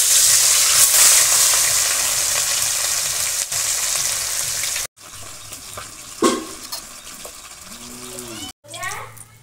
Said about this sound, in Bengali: তেল গরম হয়ে গেছে, মাছ ভেজে নিচ্ছি।